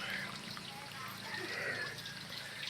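Mountain spring water flows steadily near Mount Makiling in Laguna, Philippines, a soft continuous trickle and splash heard close up that stays fairly even throughout the short stretch.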